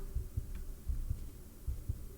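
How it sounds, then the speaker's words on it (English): A low-health heartbeat in the Oblivion video game thuds in steady double beats, three lub-dub pairs over a low hum, clear and alone. "but now there's a heartbeat."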